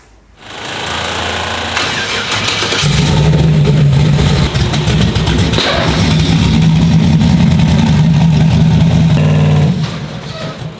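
A turbocharged Chevrolet Nova's engine starts up and revs loudly and steadily for several seconds before easing off, close by with no talking.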